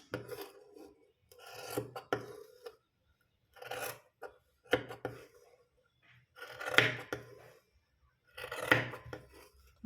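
Scissors cut along a marked line through piping cloth, giving a series of close, rasping snips in separate bursts with short pauses between them and no talk.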